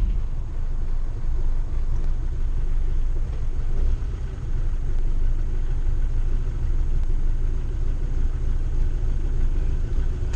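A BMW M10 2.1-litre four-cylinder running on twin Dellorto DHLA 40 sidedraft carburetors during tuning, giving a steady, close, low rumbling idle that holds even throughout.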